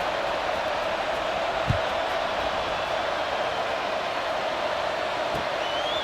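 A stadium crowd in College Football 26, at a Tennessee at Alabama game, roars steadily as a continuous, dense wash of distant cheering with no break.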